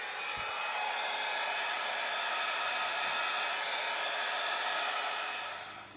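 Wet acrylic pour paint being blown across a canvas with a hair dryer, whose loud, steady, airy roar runs continuously for several seconds close by with no talking.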